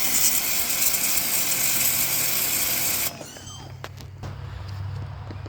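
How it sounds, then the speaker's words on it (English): Pressure washer spraying a laser bed honeycomb: a loud steady hissing spray runs for about three seconds, then stops, leaving lower rumbling and a few sharp knocks and clicks from handling. "Get your pressure washer out, get it all cleaned up,"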